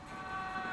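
A train rumbles steadily in the Call of Juarez Gunslinger video game, a brief, moderately loud mechanical drone with a sustained tonal hum.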